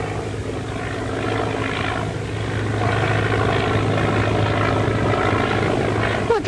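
A 1930s propeller airplane flies overhead, its steady droning engine roar filling the scene and swelling slightly louder as it passes.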